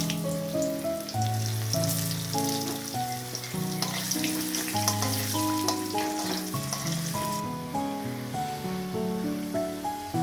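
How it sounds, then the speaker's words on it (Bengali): Potatoes for a fig curry (dumur torkari) sizzle and hiss in a hot pan, a continuous frying sound running under loud background music. "এবার এর মধ্যে আমি আলু ছেড়ে দিচ্ছি।"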